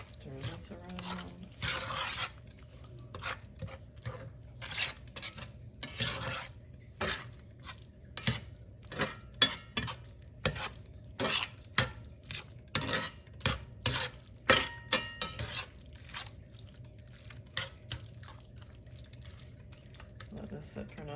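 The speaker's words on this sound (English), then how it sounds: "Stir this around." Ground turkey with mild picante sauce is stirred in a pan, a spoon scraping and clacking against the metal in repeated uneven strokes over a soft background sizzle.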